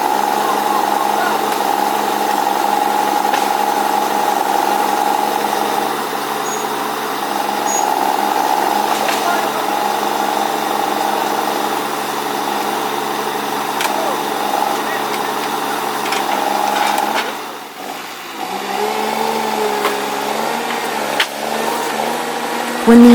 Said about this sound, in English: When the intended loading capacity is reached, the machine starts its loaded turn.